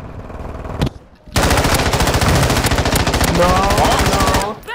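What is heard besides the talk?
gunfire in a video game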